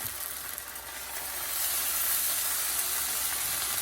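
Chicken fried rice sizzles steadily in a hot pan as it is stirred, a bright continuous hiss that swells louder partway through, with no talking.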